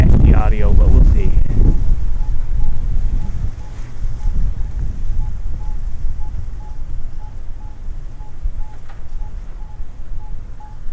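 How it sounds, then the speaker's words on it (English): Wind gusts buffet binaural microphones outdoors, a loud low rumble at first that settles into ongoing blustery rushing, with a faint repeating beep in the background. "Now, I don't know where this wind came from."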